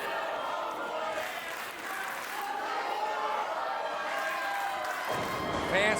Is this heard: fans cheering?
yes